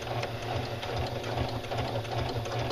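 A sewing machine backstitching the casing of pajama pants runs steadily and close, with a busy, even mechanical chatter through the whole stretch and no voices over it.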